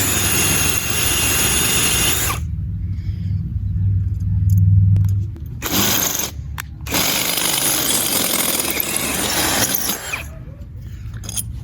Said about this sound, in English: now that I've drilled the hole